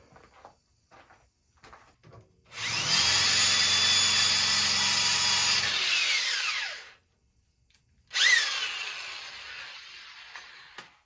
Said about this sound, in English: This is what you need to drill the holes out to.